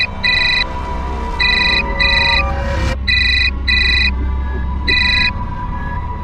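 A phone rings with an incoming call, its electronic tone sounding in short paired bursts, loud and close, repeating about six times over a low background hum with a brief swoosh in the middle.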